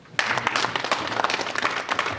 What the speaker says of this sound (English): Colleagues, SRC, smile and clap yourself.